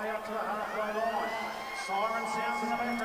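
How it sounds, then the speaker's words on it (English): A full-time siren sounds at a rugby match, a steady wailing tone held across the crowd noise of the park, loud and continuous throughout. "And the siren sounded."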